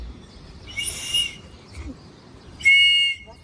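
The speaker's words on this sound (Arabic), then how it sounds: "زمارة ولا صفارة؟ صفارة ولا زمارة؟ صفارة." A small toy whistle is blown in two short, shrill bursts, loud and near, separated by a pause with faint background noise.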